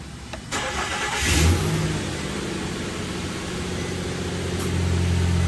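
A repaired Nissan Frontier engine cranks briefly and catches, then settles into a loud, steady idle with a faint rise in revs, close to the microphone and with no talk.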